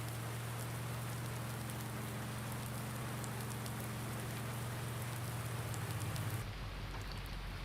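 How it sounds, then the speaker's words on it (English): Steady rain falls in a farming video game set in Marxville, Wisconsin, during a ride home. The hiss is constant and fairly soft, with a low droning hum beneath that cuts off near the end. "So the rain hasn't seemed to let up here on the ride home."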